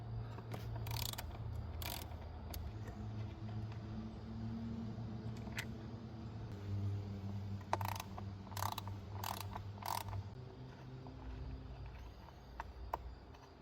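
A hand ratchet loosens the 8mm fuel rail bolts on a 1999–2006 Chevy Silverado, faint quick clicking bursts over a low steady hum, with no one speaking.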